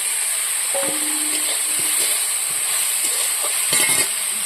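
Fried fish heads go into a hot pan for fish curry, giving a close, steady sizzle with a few faint clinks and stirring sounds and no talking.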